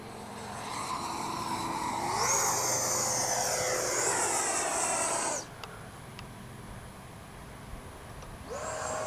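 A Freewing Avanti S V2 RC jet flies close and loud, its ducted-fan whine rising in pitch as it pulls straight up into a stall turn, then cutting away before surging again near the end.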